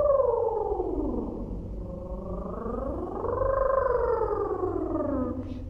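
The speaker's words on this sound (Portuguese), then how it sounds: "eu faço um exercício de vibração e respiração" A singer does a vocal vibration warm-up, a continuous buzzing lip or tongue trill that glides down and then up in pitch and back down, close and fairly loud, with no words.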